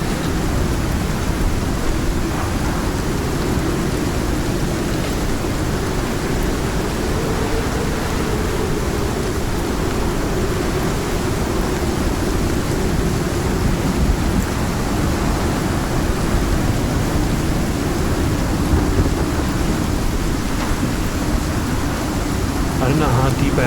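A storm in the video game Icarus, with heavy, constant rain hiss and low rumbling thunder filling the scene at a loud, unbroken level throughout.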